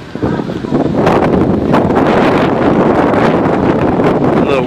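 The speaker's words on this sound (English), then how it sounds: "A little wind here today." Strong wind buffeting outdoors on a university campus, a loud continuous rushing roar battering the microphone with no pauses.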